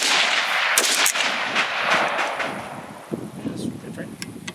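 A burst of loud shots from a Chinese Polytech Legend AK-47 rifle crackles close by, a few sharp reports in quick succession that sound wrong, with outdoor wind and faint voices underneath.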